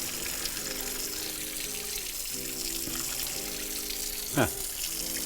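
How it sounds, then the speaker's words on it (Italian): Cold water runs steadily from a tap in the background while pasta is drained, with a faint voice over it and a brief whooshing sweep near the end. "faccio uscire l'acqua fredda e comincio a scolare"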